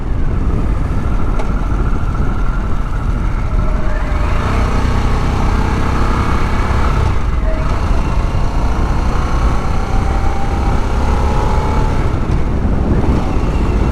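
A 2021 Harley-Davidson Sportster S on a demo ride through curvy roads, its low engine drone buried under heavy, constant wind rush, with the pitch shifting slightly through the bends.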